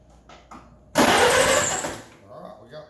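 A Farmall Super A tractor engine cranks over in a loud burst that lasts about a second before easing off, its ignition coil firing and its points worn, with faint clicks just before it.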